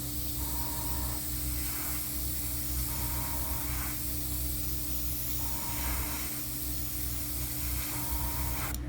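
Tamiya paint sprayed through an airbrush onto a 1/32 scale Spitfire model, a steady airy hiss running throughout with faint periodic surges in the spray, no talking.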